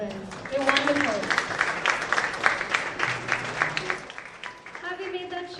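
Audience applause for a group of children from Happy Home at an affirmation CD launch event, a steady crowd clapping throughout with voices and cheering mixed in underneath.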